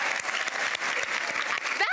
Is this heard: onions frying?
no